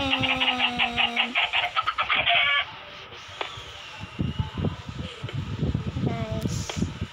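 Chickens cluck and squawk in an automatic egg farm, with varied bird calls close by over a mechanical background hum and clattering.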